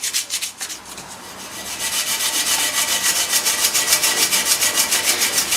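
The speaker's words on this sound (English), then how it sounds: "So with an abrasive Scotch pad, it is getting at it now" An abrasive Scotch pad scrubs stainless steel treated with Harpic, giving loud rapid back-and-forth rubbing strokes in a steady rhythm, close up and without talk.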